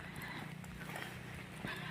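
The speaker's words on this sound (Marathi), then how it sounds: "हे बघा म्हशी चालतायत." Buffaloes walking in steady rain, their hooves making faint, irregular soft thuds beneath a constant hiss of rainfall, with some murmured voices in the background.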